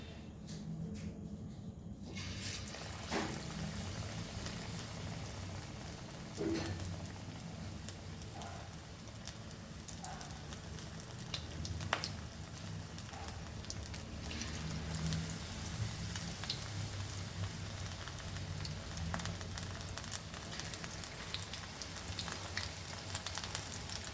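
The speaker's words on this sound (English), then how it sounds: "And then let's fry our lollipops." Chicken lollipops frying in very hot oil, giving a dense, continuous sizzle and crackle with scattered pops that runs steadily throughout, close and fairly loud, with no one speaking.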